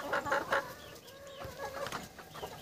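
Village roosters, deep red, black and light red birds kept behind netting, cluck in a quick burst of three calls, then keep up softer scattered clucking close by with no one talking.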